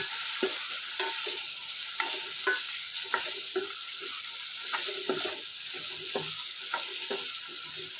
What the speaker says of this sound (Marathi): आणि त्याला छान परतून घेऊ.